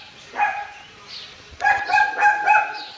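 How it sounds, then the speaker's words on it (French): Dogs bark at the postman in short, sharp yips and barks, one early burst followed by a quicker run of several barks, fairly close and loud. "Le postier est encore en train de se faire engueuler par les chiens, vous devez entendre."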